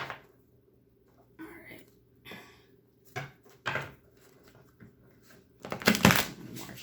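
Tarot cards are shuffled in soft, separate bursts of riffling and sliding, close and fairly quiet, with a louder flurry near the end.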